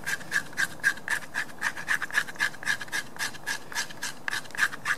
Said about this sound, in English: this is scraping no problem, obviously because it's so sharp